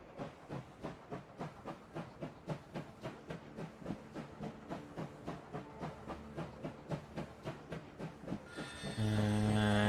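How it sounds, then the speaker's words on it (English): Rhythmic chugging of a steam train in the video game Last Train Home, steady regular puffs that slow slightly, ending in a loud sustained whistle-like blast of steam. "You feel the train slowing to a stop, yet you have given no such order."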